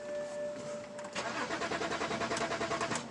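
A BMW 3 Series engine cranks briefly with a whirring starter, then catches into a steady, rapidly pulsing run that stays close and fairly loud, with faint electronic beeps at the start and no talking.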